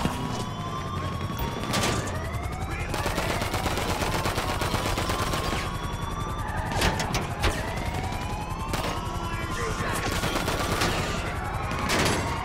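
Rapid gunfire at the prison gate entry system in a Los Santos Tuners video game mission, dense bursts of shots over wailing police sirens, with louder cracks recurring every few seconds and no talking.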